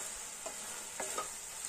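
Chilli momo sauce with Kashmiri chilli is stirred in a pan, giving a few faint scraping strokes over a soft, steady sizzling hiss. No voices are heard.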